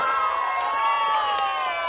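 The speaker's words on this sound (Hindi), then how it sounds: "जोरदार तालियां हो जाए।" Cheering and shouting from a crowd of children at a school annual sports day, a steady loud burst of voices that carries through the whole short moment.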